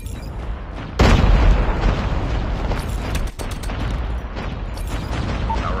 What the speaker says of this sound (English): Friendly XS-1 Goliath is landing.